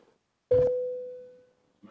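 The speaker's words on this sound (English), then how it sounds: "It's me ringing the bell. I don't often do that. Sound like a call bell" A call bell struck once during a council meeting, a single clear ding that rings out and fades over about a second in a quiet room, with a faint voice briefly after.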